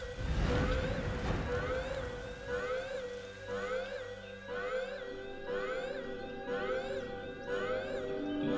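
Rain falls in the video game Master Detective Archives: Rain Code, a steady wash beneath a loud, repeating rising-and-falling siren wail that cycles over and over.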